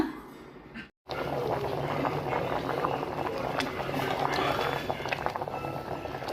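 Chitranna rice dish simmering in a pot, a dense close bubbling and rumbling boil that runs steadily after a brief gap near the start.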